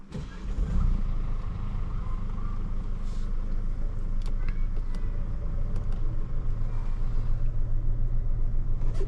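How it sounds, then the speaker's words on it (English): A 2-litre diesel engine in a 2019 Mercedes GLC 300d SUV idles and rumbles steadily with a low, throbbing clatter, close by, with some faint clicks over the drone. "it's a 2-litre diesel, around 242 horsepower."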